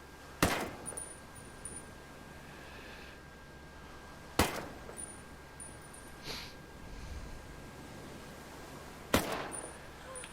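Single shots from an M4A1 rifle in Ghost Recon Breakpoint, three sharp cracks spaced several seconds apart over a quiet steady background, each with a short tail.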